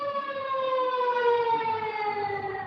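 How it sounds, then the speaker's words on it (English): A wailing civil defense-style siren sounds steadily and fairly loud, its sustained tone slowly drifting lower in pitch without a break, with no voices over it. "sorry, sirens."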